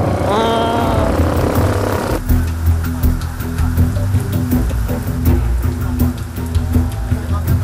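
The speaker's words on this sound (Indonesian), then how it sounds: "Di tengah perjalanan, hujan lebat menghadang." Heavy rain falls across a forest on a journey through a protected woodland, a steady dense wash with a patter of scattered drops, and a droning engine-like hum running beneath it from start to finish.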